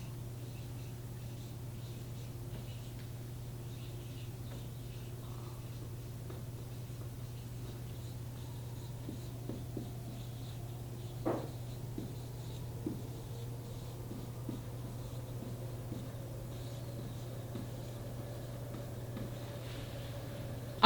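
A pen writing a short phrase by hand on paper: faint, scattered scratching strokes and small taps over a low, steady hum in a quiet room.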